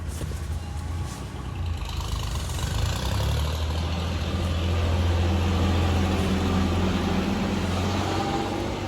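A Kubota L3408 4WD tractor, fitted with a front blade and a breaking plough, idles with a steady low diesel rumble that builds slightly after the first seconds and holds constant and close, with no talk.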